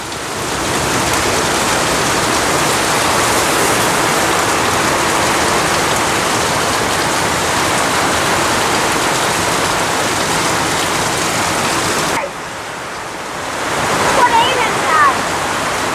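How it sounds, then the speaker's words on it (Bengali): Steady rain pours down outdoors after several days of intense heat, a dense, even hiss of drops on surfaces and plants; a brief lull near the end gives way to the downpour again. "কয়েকদিনের মাথায় আজকে বৃষ্টি হচ্ছে"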